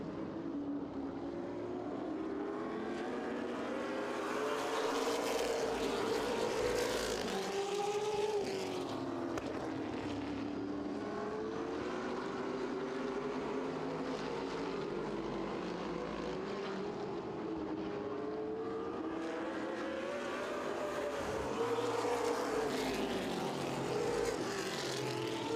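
Several race cars running practice laps to warm their tires at a dirt oval event, engines droning continuously with rising and falling pitch as they circle, steady and moderately distant.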